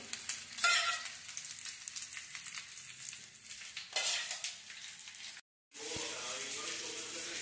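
Chicken leg pieces frying in oil, a close crackling sizzle with stirring and scraping of a utensil against the pan, broken by a short silent gap before the frying resumes; a voice speaks faintly over it.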